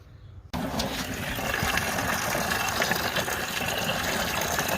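Engine coolant from a 2005 Nissan Titan gushing out of a hose into a bucket, starting abruptly after a brief quiet moment, then a steady splashing liquid pour held close up.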